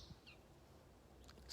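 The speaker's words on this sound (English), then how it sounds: "Just listen to the birds, you guys." Faint, distant birdsong outdoors: a few thin chirps early on and a brief flurry near the end, over quiet, still background air.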